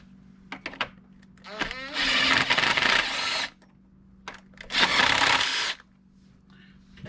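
Bolts come off the clutch slave cylinder on a Subaru EJ25 engine in a third-generation Impreza, two loud ratcheting whirs of a power tool, each lasting over a second, with light clinks and a low background hum.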